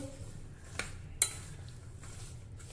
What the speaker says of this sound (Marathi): आपण हे व्यवस्थित मिक्स करून घेऊ